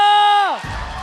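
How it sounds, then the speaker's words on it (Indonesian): An arena audience at an MPL Indonesia Mobile Legends match, ONIC versus RRQ, roars in after a caster's drawn-out call fades. The crowd noise is a loud, close burst of cheering and clapping. "So WPL Arena, mana tepuk tangannya?"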